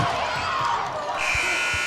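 At a varsity high school wrestling match against Central, the end-of-period buzzer sounds partway through as a sustained electronic tone. It comes under an excited commentator's voice and crowd noise, with a few dull thuds.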